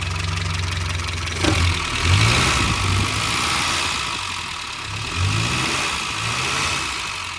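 Small engine of a Morris Minor car runs steadily close by, with a few brief revs rising and falling over a low continuous idle, heard alone without talk.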